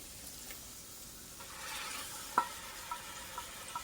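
Ground turkey and vegetables sizzle faintly in a pan over low heat, a soft, steady frying hiss that swells partway through, with one sharp clack of a utensil and a few lighter taps.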